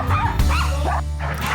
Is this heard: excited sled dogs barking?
yes